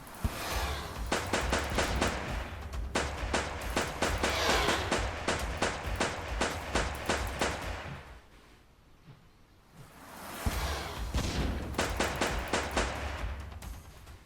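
Rapid bursts of gunfire in an FPS video game rattle loudly in two long volleys, separated by a brief quieter lull.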